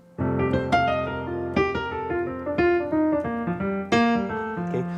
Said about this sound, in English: if you want this sound, you need to understand the quartal technique